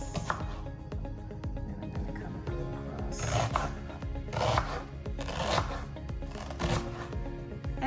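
A knife cuts through a red onion on a cutting board in a series of crisp chops and slices, close up, while a person talks over them.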